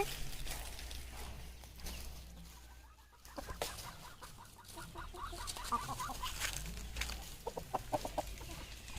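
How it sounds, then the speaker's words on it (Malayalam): Free-range chickens cluck in short bursts nearby in a house yard over a low background hum, with scattered pecking sounds and quieter stretches between calls. "നമ്മുടെ കോഴികളൊക്കെ ചെനക്കിയിട്ടും തിന്നിട്ടൊക്കെ അതിക്കടെ നടക്കണുണ്ട്"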